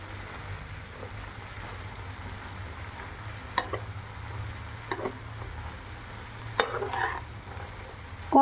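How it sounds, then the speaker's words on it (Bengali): Banana flower sautéed with spices in a pan, a steady low sizzle with occasional spoon scrapes and clinks as the mixture is stirred. "এবার এই মশলাগুলো দিয়ে আমরা মোচাটা খুব ভালো করে"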